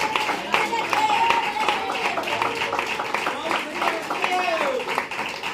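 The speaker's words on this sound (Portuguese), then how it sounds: "dá uma salva de palmas neste lugar para exaltar o nosso Deus" A church congregation claps together in praise to exalt God, dense overlapping handclaps with a loose pulse, while voices and singing carry on over the clapping throughout.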